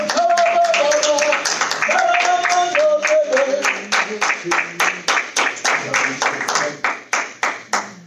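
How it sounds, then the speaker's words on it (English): A church congregation claps together during an evening service, starting as dense, continuous applause that thins into slower, rhythmic individual claps near the end. "let's give God a clap offering tonight"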